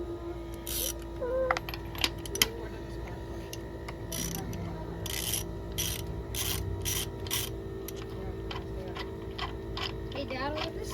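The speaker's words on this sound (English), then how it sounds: "Next, we're going to pull the spark plugs out of here." A ratchet clicking while spark plugs come out of a 1994 Honda GL1500 Goldwing, with scattered bursts of ticking pawl clicks over a steady background hum and occasional voices.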